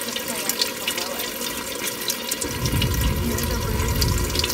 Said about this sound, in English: you can see that water trickling down to all of the roots of the plants below it